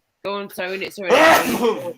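A single loud, close sneeze bursts out right after brief speech, with someone talking just before it.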